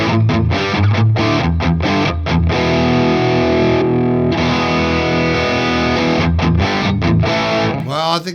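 Distorted electric guitar riff with ringing harmonics. Heavy, saturated chords and chugging notes play loud and continuous, with a sustained harmonic ringing through the middle and no talking.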